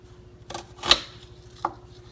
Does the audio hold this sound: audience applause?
no